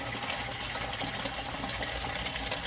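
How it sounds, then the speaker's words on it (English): Coolant and water rush steadily from the radiator of a 1998 Lincoln Town Car during a cooling-system flush, a constant loud broadband splashing gush with no pauses and no talk. "We're flushing out the cooling system now, we're flushing out the radiator."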